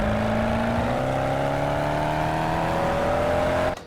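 A modded car engine heard from outside in the racing game Assetto Corsa, revving up smoothly and loudly in a lower gear with rising tonal harmonics for several seconds before cutting off abruptly.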